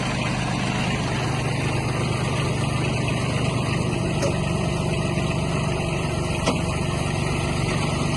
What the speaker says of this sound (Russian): Покрутим фрезу.